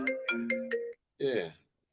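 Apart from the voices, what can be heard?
phone ringing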